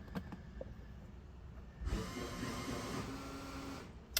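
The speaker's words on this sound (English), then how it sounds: "Those are the trim tabs adjusting." Trim tabs adjusting on a 2017 Moomba Mojo wake boat give a steady mechanical whir that starts abruptly after a quiet idle and runs continuously for a couple of seconds.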